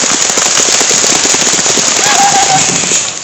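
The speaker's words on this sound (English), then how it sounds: "There's gunfire, there's grenades, there's helicopters coming around you." A battle sound effect played at a high school stage hypnosis show: rapid crackling bursts of gunfire rattle continuously over a dense, loud roar, like a chaotic battle scene.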